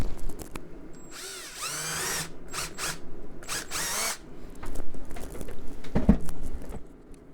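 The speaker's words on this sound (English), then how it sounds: "a drill to drill out that curvy shape to get most of it out" A power drill bores a curved piston wrench shape out of a plastic credit card, whining in short, high-pitched bursts separated by pauses, with small tapping and handling noises in between.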